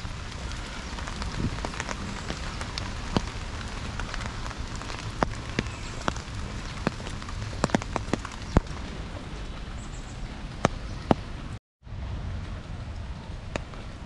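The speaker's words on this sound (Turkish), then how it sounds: "Şimdi yağmur yağıyor." Steady rain patters on surfaces all around in Kandy, Sri Lanka, near a river, with occasional sharper drops ticking close by; a brief dropout near the end.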